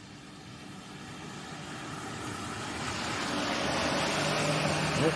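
A Boeing P-8 Poseidon approaching Leeds Bradford Airport from below the clouds, its jet roar distant and steadily growing louder over the whole stretch, with no talk.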